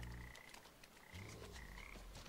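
In the Papo & Yo video game, a frog croaks in low, repeated bursts over a steady background hum, with no talking.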